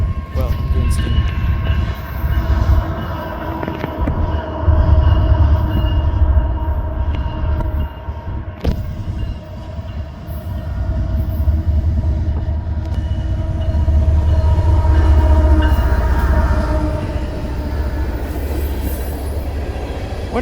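BNSF SD70MAC locomotive number 9407 passing with its train, a loud continuous rumble of rolling wagons and wheel noise with high squealing tones, close by and sustained throughout.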